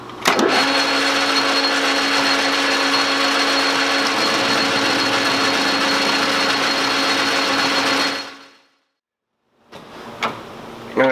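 A lathe machines a salvaged rocker arm pivot shaft with a loud, steady mechanical hum and whir. It runs for about eight seconds, then winds down to silence before faint shop clatter.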